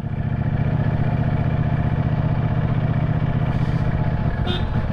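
A Ducati Streetfighter V4S motorcycle engine idles close by in a steady, loud low rumble with fine mechanical clatter, running continuously with no other sounds over it.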